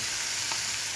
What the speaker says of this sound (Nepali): यसलाई पनि फ्राई हुनु जरुरत छ।